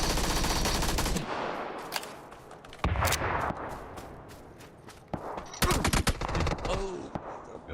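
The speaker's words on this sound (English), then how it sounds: "A submachine gun too from that distance." Submachine gun fire in a video game crackles in rapid bursts, sharp and close, separated by short gaps, with faint game ambience between volleys.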